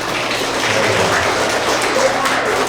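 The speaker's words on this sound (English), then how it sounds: "How are we going to clap?" Elementary students in grades three to five practice clapping at a winter award assembly. The sound is a loud, dense wash of many hands that stays continuous and even across the moment, heard in a large room.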